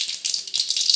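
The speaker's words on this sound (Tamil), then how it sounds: "கடுகு கொஞ்சது, கடுகு பொரிஞ்ச உடனே" Mustard seeds splutter and pop in hot oil, a close, bright crackling rattle arriving in short bursts.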